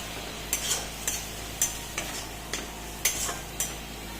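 Garlic-ginger paste, turmeric and chili powder frying in a pan for a Bengali egg masala curry, with repeated scraping stir strokes at a steady rhythm over a faint, low sizzle, close by with no talk.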